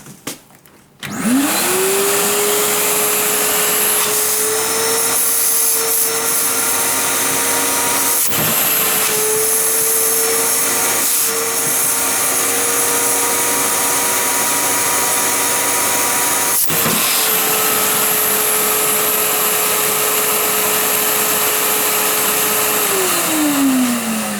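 A Bosch GAS 15 PS vacuum cleaner starts up about a second in and runs loud and steady, a droning whine with two brief dips in suction pitch, close by and with no speech.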